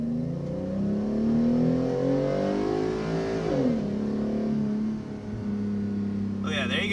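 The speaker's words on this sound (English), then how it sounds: "Some good old rev hang." A Ford F-150 pickup in sport mode accelerates hard, its engine note climbing steadily for several seconds before a gear change and a brief rev hang. The engine is loud and close, with speech tagged over it.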